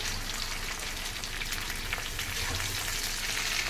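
Colocasia (taro root) curry fries in a pan with a soft, continuous sizzle and light crackle, stirred occasionally, close and fairly quiet with no talk.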